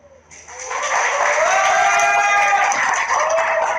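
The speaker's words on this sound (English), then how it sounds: "Biggest applause for that so far." Audience applause swells at a Redmi 4 smartphone launch event in Delhi, rising quickly into a sustained, loud wash of clapping from a large crowd that holds steady to the end.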